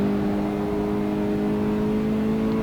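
Racing car engine holding a steady high-revving drone on a hot lap in the video game Assetto Corsa, a loud continuous tonal whine with no gear changes, no voices.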